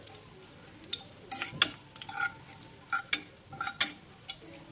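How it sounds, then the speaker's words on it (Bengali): Whole spices for a beef tongue curry, bay leaf, cinnamon and cardamom, frying in a pot, heard as scattered clinks and scrapes of a spoon against the metal over a faint low sizzle. "একটু ভেজে নেব, গোটা মশলাগুলো দিয়ে একটু ভেজে নেব"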